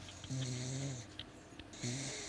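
A pet dog named Bailey snores indoors, two long, low rasping breaths a couple of seconds apart, close and fairly quiet, with no other voices.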